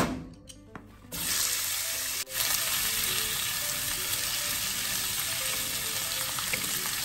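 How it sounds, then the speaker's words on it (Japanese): Oil sizzling and spattering in a pan as food fries, a loud steady crackle that starts abruptly after a second of quieter kitchen noise and continues with a brief dip. "油飛ぶから蓋閉める。"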